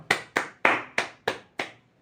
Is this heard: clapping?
yes